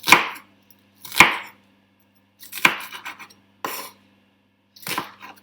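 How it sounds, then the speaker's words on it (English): A knife chopping onion finely on a cutting board for spaghetti and meatballs, five crisp separate chops spaced about a second apart, close and loud with quiet gaps between, with no talking. "I'm going to chop them quite finely."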